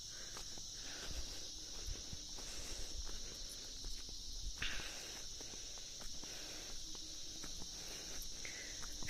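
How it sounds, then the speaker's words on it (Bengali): Crickets chirp steadily in a quiet village at dusk, a continuous high trill filling the background with faint scattered rustles and no voices. "শুধু ঝিঁঝি পোকার ডাক।"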